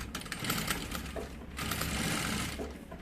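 A sewing machine runs steadily, stitching layered fabric for a double baby-bottle holder, a close, continuous whirring rattle with a slight shift in pace midway.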